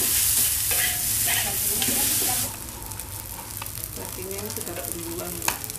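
Food frying and being stirred at a street food stall where beef tongseng and fried rice are sold, with a steady hissing sizzle and intermittent scraping and clanking of a utensil in a pan, fairly close.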